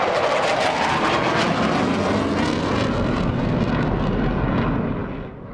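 A loud F-18 jet on the deck of the aircraft carrier USS George HW Bush roars steadily with broadband engine noise and wind buffeting, holding strong for about five seconds before easing slightly at the end.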